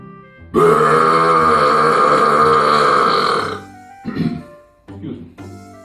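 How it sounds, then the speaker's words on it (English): A loud, drawn-out, impolite human burp rumbles for about three seconds, followed by a couple of shorter, rougher guttural belch sounds. "The not so polite burp."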